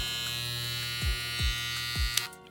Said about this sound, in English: Here is the trimmer.